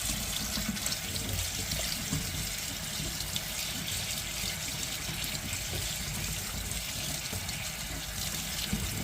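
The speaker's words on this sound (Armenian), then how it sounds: "Հոսող ջրի տակ լվանում ենք։" Dill seeds being washed under running tap water, a continuous close rush and splatter of water from the faucet, steady and unbroken throughout with no voices.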